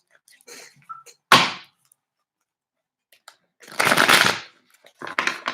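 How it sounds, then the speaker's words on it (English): Tarot cards being shuffled by hand, a few short crisp riffling bursts separated by near silence, close and fairly loud, with small taps and clicks between them. "These used to be my favorite cards to shuffle"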